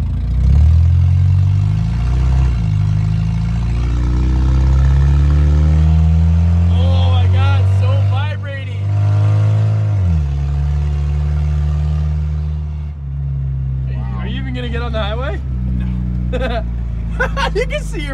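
A 45-year-old car on air-bag suspension drives along with a loud, steady engine drone and low rumble, shifting pitch as it accelerates, while people talk over it.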